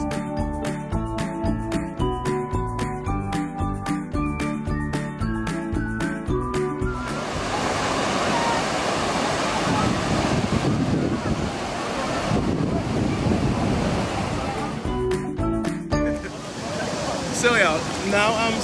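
Water from the Krka waterfall roars into the lake in Krka National Park, Croatia, as a steady broadband rush in the middle of the clip. Music plays before and after it.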